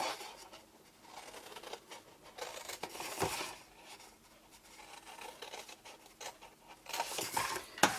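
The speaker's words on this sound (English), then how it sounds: "Let's grab my scissors." Quick snipping and rustling of paper, a scattering of small crisp cuts with brief louder snips near the end, no talking.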